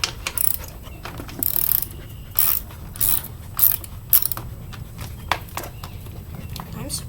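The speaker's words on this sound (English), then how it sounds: "So we've got a bolt right here that I'm going to ratchet off with a 10mm." A ratchet wrench with a 10mm socket works a bolt loose on a dirt bike's side panel, giving short bursts of clicking separated by pauses, close and moderately loud over a low background hum.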